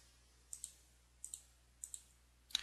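Mouse clicks while working in GIMP come in three quick pairs and then a final louder cluster, crisp and close against a faint steady hum.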